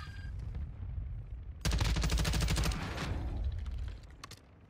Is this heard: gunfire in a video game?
yes